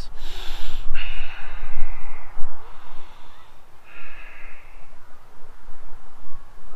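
Heavy nasal breaths and forceful exhales from a person holding a yoga stretch for the splits, a few loud puffs early on, then softer, steadier breathing close to the microphone.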